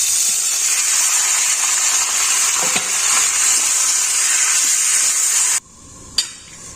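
Homegrown pumpkin bhaji fries in a pan with a loud, close, continuous sizzle and occasional stirring scrapes, then the hiss cuts off abruptly near the end, followed by a single clatter.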